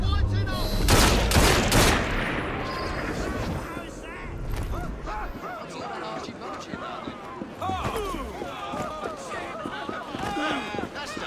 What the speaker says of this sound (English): Prepare for a volley!